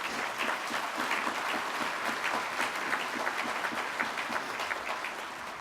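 Audience applause at a testimonial dinner for a former Canadian prime minister: steady, dense clapping from a large room, somewhat distant and even in level, continuing without speech.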